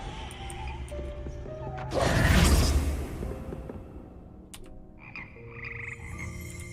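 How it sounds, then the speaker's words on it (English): Slimy frogs of the Hogwarts Frog Choir in the video game Hogwarts Legacy croak in a chorus, with a loud crashing whoosh in the middle and a steady musical game ambience throughout. "Here perch the slimy yet symphonic frogs that comprise the Hogwarts Frog Choir."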